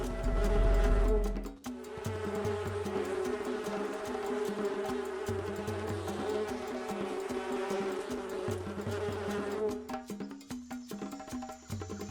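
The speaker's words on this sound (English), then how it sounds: "Out of the stinging bee hives." Stinging wild bees buzz steadily around their hives in the open bush, a dense, continuous drone of many insects close by, with a louder low rumble at the start.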